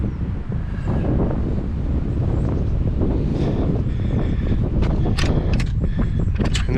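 Strong wind blowing on the Scottish mountain Beinn a' Ghlò, a loud, steady roar buffeting the microphone throughout with gusty rustling bursts toward the end.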